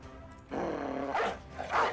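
A war dog barks in the Battle Brothers video game: a couple of short, close barks and yips over a brief stretch, with no talking.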